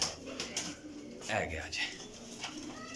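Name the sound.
Sialkoti pigeons cooing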